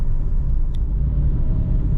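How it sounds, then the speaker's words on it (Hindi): Steady low road rumble from inside an automatic Maruti XL6 in early morning traffic in Thane, a constant loud drone of engine and tyres with a faint tick partway through and nobody talking. "और ट्रैफिक की शुरुआत हो चुकी है।"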